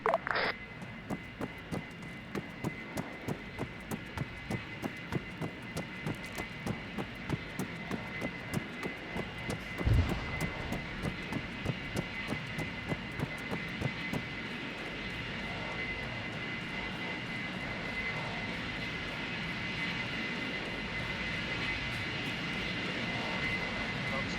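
Aircraft engine drone during a security operation around a landed aircraft, a steady, fairly faint hum with a regular pulsing beat, plus a brief faint voice.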